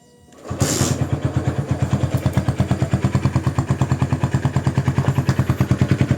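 A Honda CB100 motorcycle engine starts after a brief crank and settles into a steady, loud, close idle with an even pulsing beat that runs to the end.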